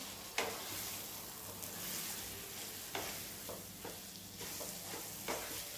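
Chana dal being roasted in a pan over low heat, with a soft continuous sizzle and occasional gentle scraping strokes of a spoon stirring.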